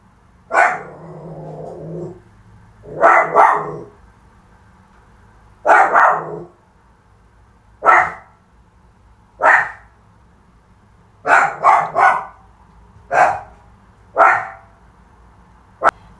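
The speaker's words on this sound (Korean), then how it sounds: "애들이 짖어요" Dogs bark at a horse racetrack in repeated bursts of one to three barks, loud and fairly close, spaced by short pauses with no talking.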